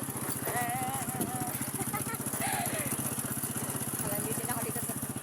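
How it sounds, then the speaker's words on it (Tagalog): A motorized tricycle engine putters steadily and close during a ride, its rapid regular pulsing continuous throughout, with faint voices and chatter riding over it. "Sakay tayo ng tricycle."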